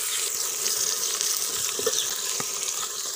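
Onions hit hot ghee in a cooking pot for chicken biryani, giving a loud, dense, continuous sizzle up close with faint stirring clicks, no talking.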